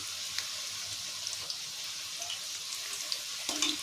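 Cream rolls frying in hot oil give a low, steady sizzle with scattered small pops and crackles, quiet and close, with no talk.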